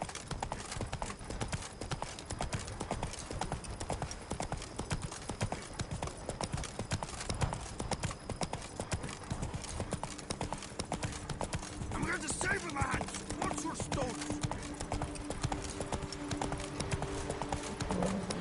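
Steady clip-clop of horse hooves trotting at an even rhythm in the video game The Witcher 3, with a busy background of game sounds and voices talking over it.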